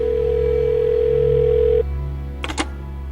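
A steady telephone tone hums for about two seconds, then cuts off, followed by a few quick beeps.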